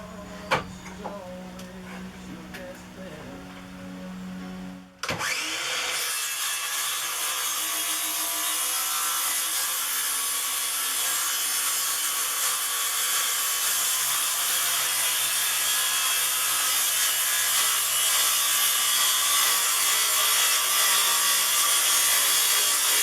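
A power saw whines loudly and steadily through wood for a long stretch, starting abruptly after a few seconds of quieter handling noises.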